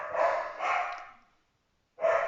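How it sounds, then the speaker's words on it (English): A dog barks three times nearby, two quick barks in a row, a short pause, then one more. "I don't know what the dog's barking at"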